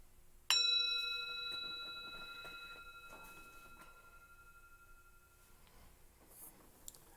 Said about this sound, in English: I'm going to ring the bell. Listen carefully.